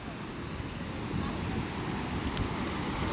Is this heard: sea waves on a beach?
yes